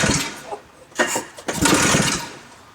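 An engine of a vintage snowmobile, stored for 22 years, tries to start, giving a few short sputtering cranks and a brief rough catch before fading, close by.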